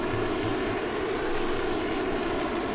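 Simulated aircraft engine drone from a fast fighter in flight in the IL-2 1946 flight sim game, a steady, loud, unbroken roar with no talk over it.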